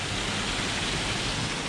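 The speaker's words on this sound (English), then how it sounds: "that waterfall is always here, as long as the creek's running" Waterfall on a creek along Van Hook Falls Trail, a steady, loud broadband rush of falling water that stays constant and close throughout, with no voices.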